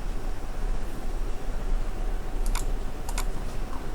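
A few quick bursts of computer keyboard typing over a loud steady background hiss, a short cluster of keystrokes followed by another short cluster, no talking, entering a value for a SolidWorks sheet metal base.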